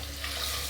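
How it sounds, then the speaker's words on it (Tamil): A brass or silver pot of water poured out in a home kitchen while making goat leg soup, a brief steady splashing rush heard close up. "சொம்பு தண்ணி ஊற்றிருக்கேன்."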